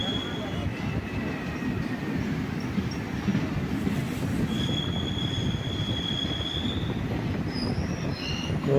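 A train pulls into a railway station in Tamil Nadu on the Sengottai Express route, steady close rumble of wheels with high metallic squeals of braking wheels rising over it, a continuous loud roll throughout.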